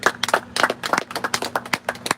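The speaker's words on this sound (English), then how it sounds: "All praise, clap it up." A congregation claps in praise during a worship gathering, with a rapid, uneven flurry of nearby hand claps in rhythmic bursts and a low sustained tone underneath.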